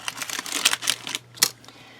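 A blade slices through a polymer clay gingham cane, giving several short, crisp clicks and taps at uneven intervals, close and fairly quiet, with no talking.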